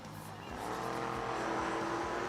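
A 1971 Vega wagon and a 1988 Mustang launch side by side at a footbrake drag race, engines roaring loud and steady as they pull away down the strip.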